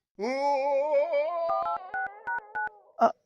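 A telephone sounds while a call is being placed: a sustained electronic tone that wavers slightly, then a run of short, evenly spaced beeps ending in one louder blip.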